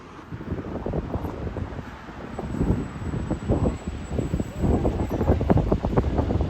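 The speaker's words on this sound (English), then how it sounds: "It's warm but very windy" Strong seaside wind on a warm day buffets the microphone in gusty rumbling waves, growing louder toward the end, with no voices.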